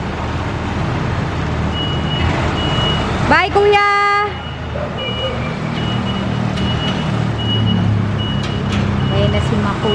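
A moving truck backs up with a burst of rapid electronic reversing beeps over its idling engine and street noise, and people talk and call out goodbyes nearby.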